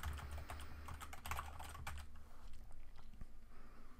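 An email address is tapped out on a computer keyboard, quick clustered keystrokes near the mic, quiet and with no talking.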